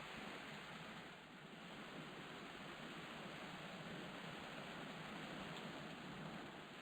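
Steady rain falls outside a shelter, a continuous soft hiss that stays even and fairly faint throughout, with no voices.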